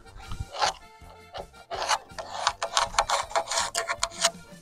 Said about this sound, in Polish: z drugiej strony zaznaczam i tnę